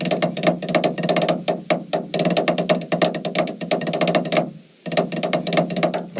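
A military drum rudiment in 6/8 played on a drum rattles out as rapid, crisp repeated strokes in a rolling rhythm, with one short pause before the pattern resumes.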